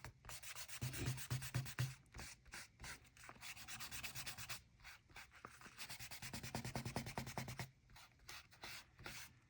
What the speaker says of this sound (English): Then I'm going to erase my pencil lines.